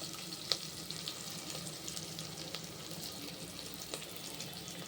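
Pongal ingredients frying in a pan make a continuous low sizzle, with a few sharp utensil taps and clicks breaking through the hiss.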